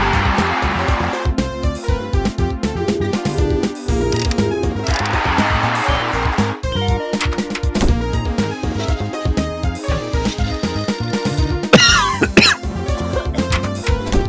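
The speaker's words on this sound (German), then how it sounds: "Oh, jetzt hustet die alte Frau auch noch." An elderly woman patient coughs in the Theme Hospital video game, with repeated coughs over a dense, continuous game soundtrack.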